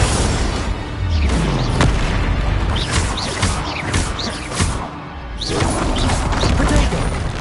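Repeated explosion spells from Hogwarts Legacy, heavy booming blasts and crashes in quick succession, loud and close, with dense rumbling impacts throughout.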